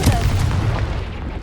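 Confringo spell explosion in the video game Hogwarts Legacy, a single loud close boom that decays over about a second, with no talk over it.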